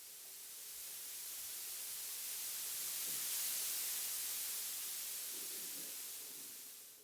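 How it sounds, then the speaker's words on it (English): Blue noise from the noise module of a DIY mki x es.EDU modular synth system, a steady, bright hiss, like white noise with the lows cut, holding at an even level throughout and fading slightly at the very end. "So that's essentially white noise with the lower frequencies attenuated. It sounds more like a hiss to me."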